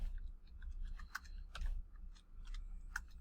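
Soft, quiet keyboard typing: scattered light key clicks over a low background hum.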